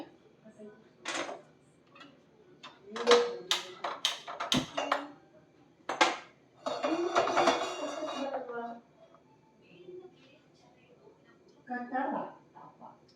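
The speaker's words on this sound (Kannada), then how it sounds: "ಅಲ್ಲಿಗೆ ಒಂದು ಪ್ಯಾನ್ ಇಟ್ಕೊಳ್ಳಿ" A pan clatters onto a stovetop while preparing a no-bake Oreo cheesecake, with several sharp metallic knocks and clinks from cookware through the clip. No words are spoken.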